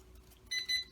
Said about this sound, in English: that is the annoying beep I was talking about